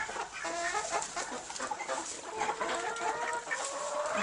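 Chickens cluck and a rooster calls amid a dense, busy din of birds in a rooster pen, continuous and fairly close throughout.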